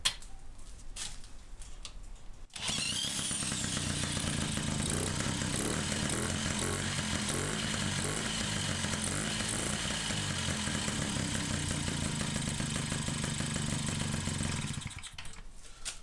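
A moped engine, its ignition timing set by eye with only a screwdriver, fires up after a short quiet pause and then runs steadily and loudly for about twelve seconds with a buzzing two-stroke rattle before cutting off.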